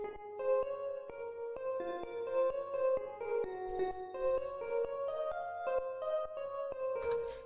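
A Synth Mallet part plays the main motif as a steady run of bright, struck mallet notes with ringing tones, alone and clear.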